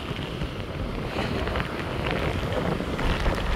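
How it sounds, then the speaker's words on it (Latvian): Strong wind gusts across an open outdoor spot on a summer morning, a steady, loud roaring rush with buffeting noise on the microphone throughout and no voices. "Šķiet, ka vispār vējš pastiprinās"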